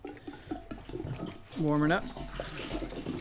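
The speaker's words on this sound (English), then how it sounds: "put the fuel in and check for leaks. So Let's pour a little bit in." Fuel is poured from a can into the tank of a Massey Ferguson 35X tractor, giving a short gurgling glug of liquid midway, with someone talking quietly before and after.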